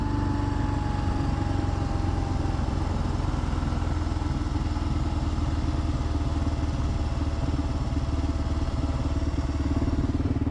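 A motorcycle rides down a mountain at dusk, its engine droning steadily and loudly throughout with a constant rumbling clatter and no pauses.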